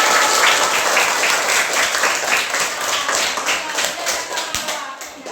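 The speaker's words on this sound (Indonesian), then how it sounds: "Nah, tepuk tangan untuk Marwa." Schoolchildren clap for Marwa at an anti-bullying session at an elementary school in Asahan, a dense, steady round of applause filling the whole stretch and fading slightly toward the end.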